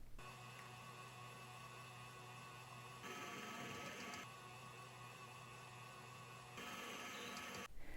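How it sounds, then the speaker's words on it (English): An electric mixer whisks egg whites for gluten-free meringue cookies, its motor giving a steady, continuous whir that shifts in tone twice as the speed changes, with no talking. "using either an electric mixer or a stand mixer, stir on slow speed until foamy"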